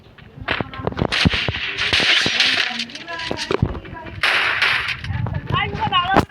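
Sniper rifle shots in a video game, a series of sharp cracks spread irregularly across the few seconds, mixed with other game effects and clinks.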